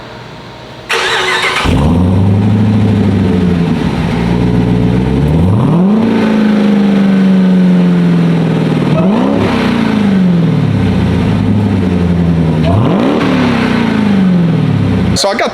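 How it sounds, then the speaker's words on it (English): A Dodge Durango Hellcat on its stock exhaust fires up and then takes three loud, sharp revs, each swelling and falling back to a deep steady idle, close and dominant throughout. "just a stock exhaust and maybe 2 or 3 revs just to see what it sounds like"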